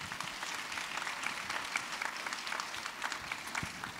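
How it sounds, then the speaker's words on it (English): Audience applause fills the hall at the 2013 People, Power, Progress Awards program, a steady, dense wash of many hands clapping with no break. "please give yourselves a round of applause one more time"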